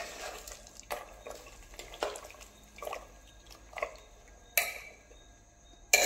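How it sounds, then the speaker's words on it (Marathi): Masala curry for a rustic Maharashtrian mundi rassa being mixed in a pot after hot water is added, a few scraping and splashing strokes with soft liquid drips, faint and close, with two sharper clinks near the end. "आता हे छान असं एकदा मिक्स करून घेऊया।"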